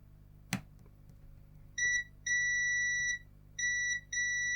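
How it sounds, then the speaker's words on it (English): A multimeter in continuity mode beeps while testing a broken flashlight, giving a clear steady electronic tone in three separate stretches after a brief click, with quiet background and no talking. "Multimeter and continuity."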